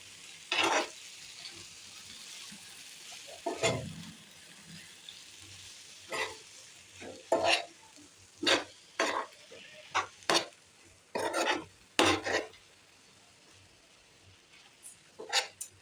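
Dried fish and chevana stirred in a pan make a low sizzle broken by sharp, irregular scrapes and clinks of a spoon against the metal, coming in short bursts close by.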